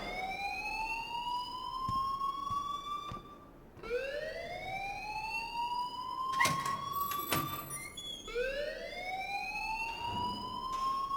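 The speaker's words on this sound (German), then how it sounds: "please turn off that alarm since that's your job." A wailing alarm rings at the school in the video game Life Is Strange. It rises in repeated sweeping cycles, loud and continuous, and is broken by a few sharp clanks.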